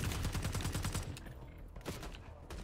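Rapid bursts of automatic gunfire in a Call of Duty Black Ops 6 match, loud and dense at first, then thinning into scattered shots.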